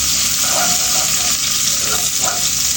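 Garlic cloves and onion sautéing in hot oil in a pan, a steady, loud, dense sizzle that stays even throughout with faint scraping of stirring.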